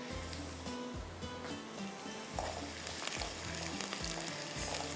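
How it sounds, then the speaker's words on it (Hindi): Whole spices and chilies frying in oil in a pan for chicken kalonji, a steady close sizzle with soft stirring scrapes throughout, no voices. "इसको अच्छी तरह से फ्राई होने दीजिएगा, मिर्चों के साथ अच्छे से फ्राई होने दें"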